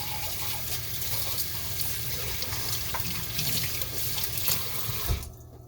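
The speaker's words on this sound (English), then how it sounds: "I'll wash my hands here really quick." Hands are washed under a running kitchen sink tap, with a steady rush and splash of water that stops abruptly near the end.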